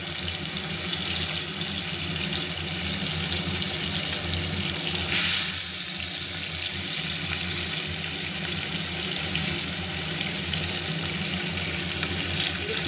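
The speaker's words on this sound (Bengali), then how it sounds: "এখানে একটা একটা করে মাছ দিয়ে আমি মাছগুলো ভেজে নেবো" Large Padma hilsa fish pieces frying in hot oil, a dense continuous sizzle close by with a brief hissing flare partway through, steady and unbroken, no talking.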